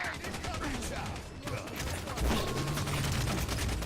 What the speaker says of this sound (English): Taking fire outside.